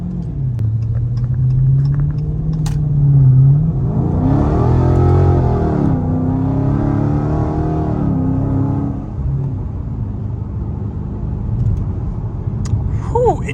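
A Dodge Scat Pack heard from inside as it pulls away, its engine rumbling and rising in pitch, dropping briefly at a gear change, then climbing again before easing off into a quieter, steady drone.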